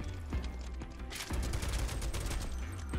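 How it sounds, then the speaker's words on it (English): Gunfire blasting rocks in Final Fantasy VII Rebirth, a dense, steady burst of rapid shots and impacts running the whole time, fairly loud and up close with no talk over it. "Oh, we can shoot these rocks?"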